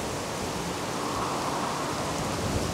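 Strong wind roaring steadily outdoors in Portugal during a stormy, rainy spell, a dense broadband rush with no gaps, fairly close and constant throughout.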